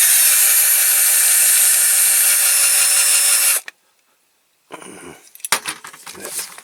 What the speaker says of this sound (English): I still haven't sharpened these damn drill bits